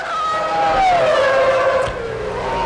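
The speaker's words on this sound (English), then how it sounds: "Now Blundell dives for the pit entrance." A 1994 Formula 1 race car diving into the pit entrance at Monza: a loud, close, high-pitched engine whine that drops in pitch as the car slows, with a commentator's voice faintly beneath.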